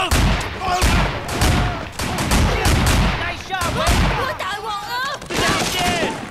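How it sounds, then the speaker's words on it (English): Gunfire rattles through a tense gunfight at a nightclub in the video game Sleeping Dogs, dense overlapping bursts and shots with chaotic sound effects, loud and continuous, with a voice talking underneath. "Okay, I hear gunfire."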